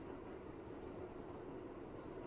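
Steady low rumble of an uptown 1 subway train in motion in New York City, a continuous droning roar with rattling, close and fairly even throughout.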